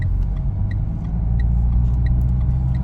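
A car accelerating away after merging into its own lane on a ramp route near Zafer junction, with a steady low engine rumble heard from inside the cabin, constant and fairly loud, with faint periodic ticking over it.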